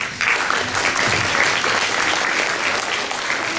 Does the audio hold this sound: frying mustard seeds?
no